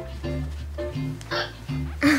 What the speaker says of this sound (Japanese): めっちゃしゃっくりしてねんけど